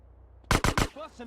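Grand Theft Auto gunfire: three sharp, loud shots in quick succession close up, followed by a voice.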